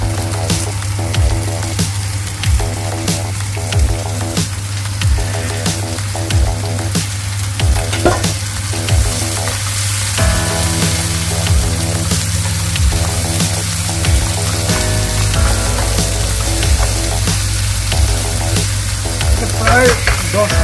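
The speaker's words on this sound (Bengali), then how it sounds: "প্রায় 10 মিনিট ভাজা হবে" Carrots, broccoli and beans frying in oil with browned onion for vegetable chow mein, a loud steady sizzle with frequent rhythmic stirring knocks and a low electrical hum throughout, no talking.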